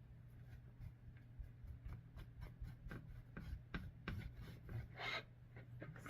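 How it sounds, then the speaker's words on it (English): Thick Valspar antiquing glaze rubbed by hand with a cap onto a wooden picture frame gives a steady, close scraping rasp in repeated short strokes, with no talking. "I'm just going to rub it on."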